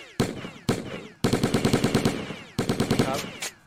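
Bullets fired in a top-down video game, a series of loud, punchy synthetic shots, first two single blasts and then rapid repeated bursts in a quick steady rhythm, close and alone with no talking.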